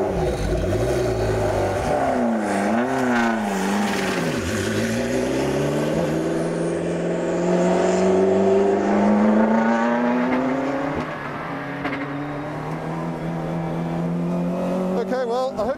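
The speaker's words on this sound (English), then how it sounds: "This is going to be one lap at the Mockroom Rodeo Speedway in the McLaren MP4-12C GT3." A McLaren MP4-12C GT3 race car laps the Mockroom Rodeo Speedway, its engine loud and close throughout, revving up and down in continuous sweeps as the pitch rises and falls through gear changes.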